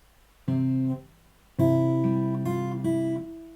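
Fingerstyle guitar phrase from a Final Fantasy X piece, two plucked chord strikes, the second ringing longer with added notes, clear and close with no voice over it.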